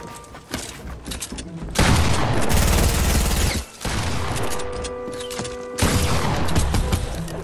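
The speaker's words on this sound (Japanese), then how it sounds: "いまだに撃ってるやつ、撃ってんぞ、いまだに撃ってんぞ" Sustained bursts of gunfire from an enemy player in Fortnite, a loud fusillade of rapid shots with one brief pause, then more firing with no talk.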